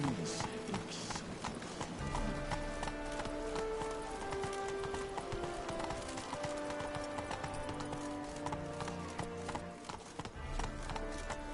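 Roach the horse gallops in The Witcher 3, a steady run of hoof clip-clops repeating throughout at moderate volume, with game ambience underneath and a voice speaking now and then.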